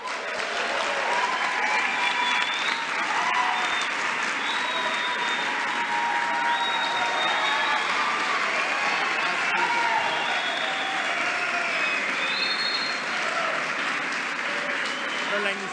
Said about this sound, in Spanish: muy bien merecido el aplauso, la ovación al señor Bremer